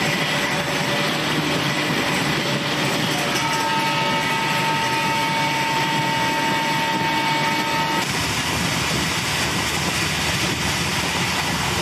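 Express train running steadily at 120 km/h in the MSTS / Open Rails simulator, the 12656 MAS–ADI Navjeevan SF Express, with a continuous rumbling rail roar and a sustained tonal whine through the middle, no talk.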